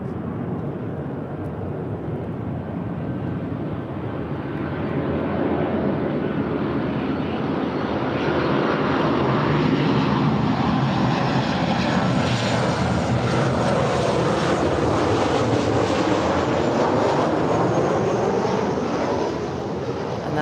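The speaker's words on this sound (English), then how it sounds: "That's American 1085 from Dallas, Fort Worth" An American Airlines Boeing 737-800, flight 1085 from Dallas Fort Worth, roars past at LAX, a loud continuous jet engine rush that swells midway and holds steady, with faint voices underneath.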